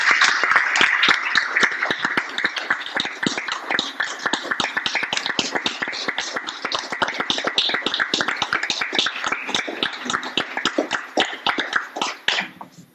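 A crowd claps steadily for Teachers of the Year at an evening celebration, dense sustained applause lasting throughout and fading at the end, with no talk over it.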